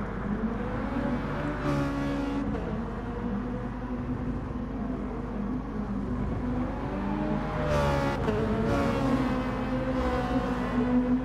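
Race car engines droning steadily in the GT Sport racing game, with harmonic engine tones rising and falling as cars shift and accelerate, plus a couple of brief bursts of noise; fairly faint and continuous with no talking.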